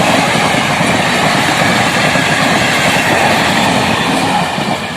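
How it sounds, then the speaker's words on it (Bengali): A train passes close by on its way toward Bankura, a loud, steady roar of wheels and carriages rolling along the rails that stays constant throughout and only eases slightly at the very end. "এই দেখো চলে এসছে ট্রেন"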